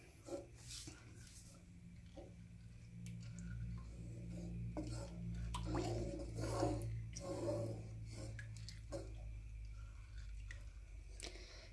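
A spoon stirring Spanish red rice in a pot, making soft, close scraping and wet squishing sounds in irregular strokes over a low background hum.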